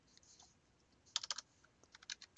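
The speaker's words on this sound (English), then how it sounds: "type a 2 over that 4 and press enter" Calculator keys pressed in a quick, faint, close run of light clicks and taps, clustered in short bursts after a quiet start.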